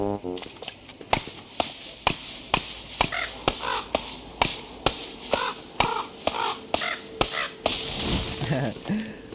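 Crows in the video game Don't Starve, heard as a steady run of sharp, evenly spaced clicks or pecks with intermittent short caw-like calls layered over game ambience, all fairly close and moderately loud.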